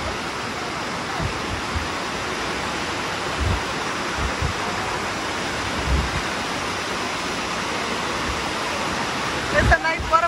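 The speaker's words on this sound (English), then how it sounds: "It's a nice waterfall" Dunns River Falls waterfall in Jamaica rushing continuously nearby, a broad steady roar of falling water with occasional thumps, no clear talk over it.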